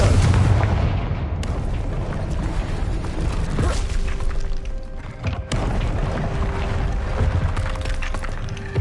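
A Confringo blasting spell in a wizarding video game lets off booming explosive blasts with sharp cracks and a rumbling tail, followed by a second loud blast partway through, loud and close, no talk.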